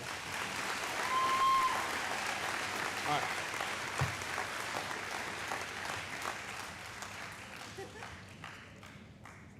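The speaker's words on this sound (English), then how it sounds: "if you can give this group a round of applause for a great season" A school audience gives a sustained round of applause for a high school track team at an athletic awards ceremony, the clapping strongest early and tapering off, with a voice speaking briefly over it.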